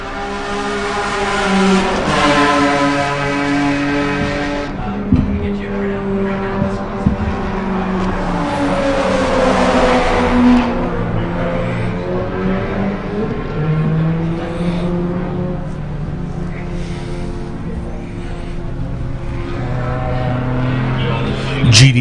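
Race cars lap Buttonwillow track, engines droning and shifting pitch as they accelerate and brake, one car passing near around the middle, with a commentator talking over the steady motor noise throughout.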